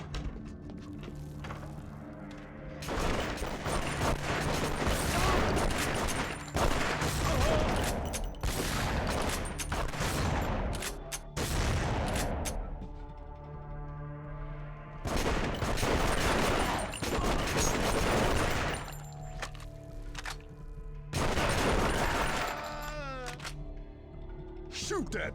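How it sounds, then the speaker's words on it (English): Bursts of gunfire in the PS3 video game Folklore, loud repeated volleys of shots separated by short lulls, mixed with game effects and background tones across the whole stretch. "Who's shooting at me?"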